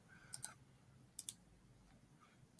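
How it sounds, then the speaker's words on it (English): A computer mouse gives a few faint, crisp right-clicks, two quick pairs separated by a pause, in a quiet room. "So I'm going to right click"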